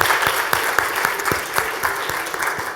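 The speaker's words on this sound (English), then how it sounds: "Mike, a round of applause, please." An audience applauds a speaker at an investor presentation event, a dense, steady wash of many hands clapping together throughout, fairly loud and continuous with no gaps.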